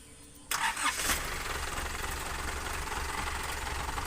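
A 14-foot jack running vehicle's engine cranks and catches about half a second in, then settles into a steady, close idle rumble that continues to the end.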